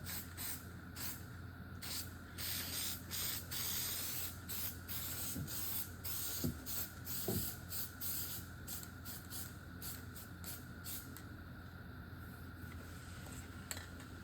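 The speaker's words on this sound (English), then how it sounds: "I might as well spray it now so it's ready to go when I go to wrap it." Spray adhesive hisses from an aerosol can onto foam for a custom Peterbilt 389 truck headliner, in repeated short bursts of steady spraying with brief pauses between them.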